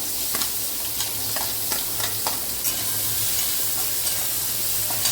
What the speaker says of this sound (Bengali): প্রথমে আমি পেঁয়াজটাকে ভেজে নিই।